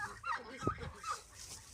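A pair of newly bought ducklings peep and chirp close by in short scattered calls, with one sharper louder call near the middle.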